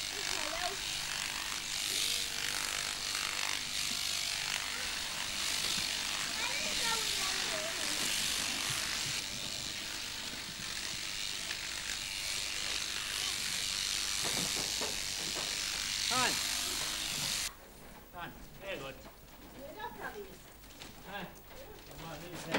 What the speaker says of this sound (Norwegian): Lammene skal kløppes før de går til slakt.